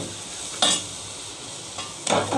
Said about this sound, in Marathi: आता याला मस्त फिरवून घ्या।